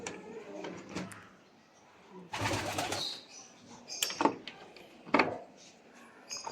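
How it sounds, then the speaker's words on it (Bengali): Pigeons, including white ones, at a pigeon farm coo in scattered low bursts, close by, mixed with sharp flutters and knocks from the loft. "এই যে হলো কবুতর, সুন্দর সুন্দর কবুতর।"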